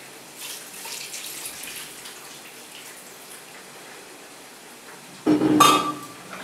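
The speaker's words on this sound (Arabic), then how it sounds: "غادي نخوي عليها الماء بارد" Cold water gushes from a tap over a roasted lamb shoulder, a loud sudden splash bursting in near the end after a stretch of faint background hiss.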